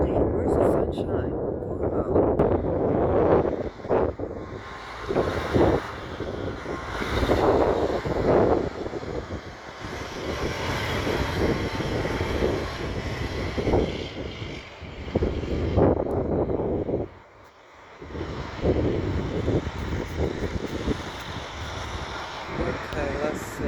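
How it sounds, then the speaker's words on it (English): Cold wind blowing outdoors near a new building, gusting buffets and roaring microphone rumble that rise and fall throughout, loud and close. "And it's cold and it's windy."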